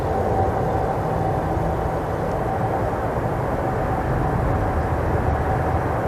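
A WAMOS Air Boeing 747-400 on final approach to London Heathrow in wind shear, its four engines a steady broad roar with a faint whine, constant and moderately loud with no voices.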